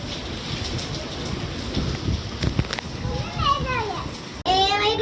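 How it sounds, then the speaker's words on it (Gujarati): Heavy rain driven by strong wind on an outdoor roadside, a dense steady wash of noise throughout, with children's and adults' voices talking over it and a sharp louder burst near the end. "એકદમ પવન સાથે વરસાદ છૂટી પડ્યો છે."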